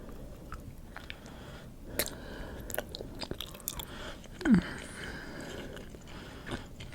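Close chewing of caramel chocolate, with soft sticky mouth sounds and a few crunchy bites spread across the clip, one sharper bite near the middle, heard alone without talk.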